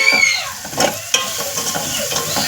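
Steady, close sizzling of onions frying in a pan, with occasional soft stirring scrapes and clicks; no voices.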